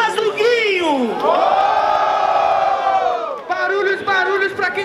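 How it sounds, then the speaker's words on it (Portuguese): A crowd at a student rap battle roars with cheers, whoops and shouted calls for a contestant, loud and continuous, with one voice rising above the noise. "Barulhos pra quem gostou das rimas do Guinho!"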